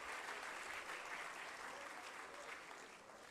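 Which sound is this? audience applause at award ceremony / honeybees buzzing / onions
audience applause at award ceremony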